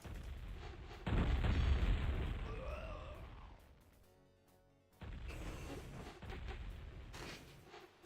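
Heavy bombing explosions in a video game, a loud rumbling blast that fades away, then another long burst of booming impacts, with no talk over them.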